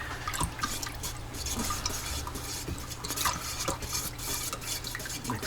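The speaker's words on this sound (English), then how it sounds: "Mix it up real good so it's nice and cloudy." Wood stain stirred in a container with a throwaway piece of plywood, giving a soft, continuous wet swishing and sloshing with faint clicks, close up and fairly quiet, with no talking.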